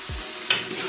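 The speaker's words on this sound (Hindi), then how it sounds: "अब मैं इसको भून लूंगी" Potatoes with salt and turmeric stir-fried in a pan for an aloo methi dish: a continuous close sizzle with a brief scrape of stirring, and no voice.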